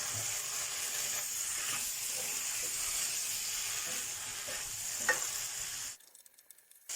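Chicken stir-fried with holy basil and no oil, sizzling steadily with a bright hiss and occasional stirring scrapes, close and fairly quiet, the sizzle cutting off near the end.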